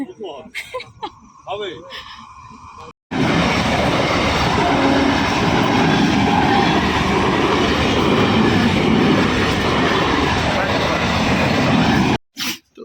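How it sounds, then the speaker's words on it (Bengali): A train approaches and rumbles past very close and loud, its steady roar and rattling wagons going on for about nine seconds before cutting off abruptly, after a stretch of talking and quieter background sounds. "ট্রেন আসছে তাই দাঁড়িয়ে আছি"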